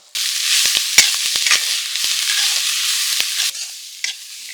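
Cauliflower leaves fry in a pan with a loud, close, hissing sizzle that starts abruptly and carries on steadily, broken by sharp clicks from stirring before it drops away near the end.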